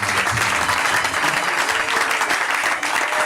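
An audience applauds steadily at the official opening of a church mission centre, a dense, continuous wash of clapping that stays loud and even throughout.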